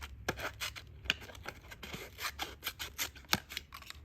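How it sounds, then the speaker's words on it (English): Ganzo G302B multi-tool scissors snipping, a quick close series of crisp metallic cuts and clicks, nearby and alone without speech. "So let's just snip a little bit."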